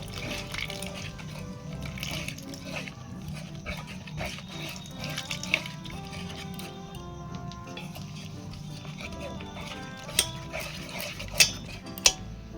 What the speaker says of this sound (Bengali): ভালো করে মিশিয়ে নিয়ে অল্প অল্প জল দিয়ে আমি ব্যাটারটা তৈরি করে নেব।